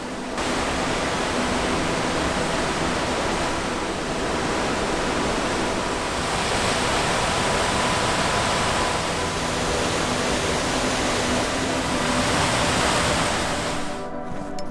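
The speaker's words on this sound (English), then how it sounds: "Look at this waterfall" Steady, dense roar of falling water from a waterfall at Parker Ridge in Banff National Park, continuous and loud with no voices, holding constant throughout.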